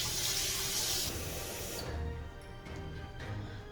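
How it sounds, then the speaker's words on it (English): Running water pours steadily into a blender jar with soap in it, a rushing hiss, then shifts to a lower, fuller sound as it fills before cutting off. "put some soap in it and fill it up with water."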